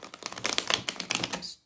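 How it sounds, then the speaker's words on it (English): A deck of tarot cards is shuffled in rapid bursts of crisp, clicking riffles, close and fairly soft, ending abruptly. "Just shuffle here"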